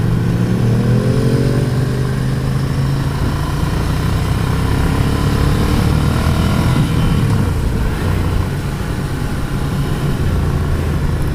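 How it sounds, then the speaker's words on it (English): A 2015 Ducati Scrambler motorcycle under full throttle, a loud close exhaust roar with rising and falling engine tones as it accelerates and shifts, continuous wind noise throughout. "Ducati seems to have spent some time on this exhaust note, and I appreciate that."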